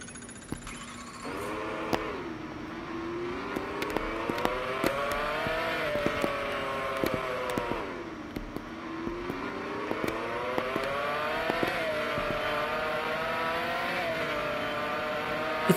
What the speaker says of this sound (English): It sounds like real Ferrari is racing.